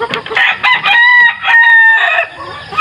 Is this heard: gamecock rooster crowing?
yes